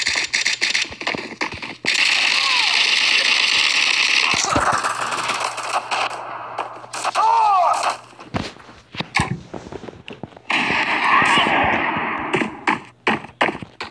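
Gunfire in the mobile shooter Bullet Force, with loud sustained bursts of automatic fire broken by gaps and sharp single shots, close and dense, and with no speech over it.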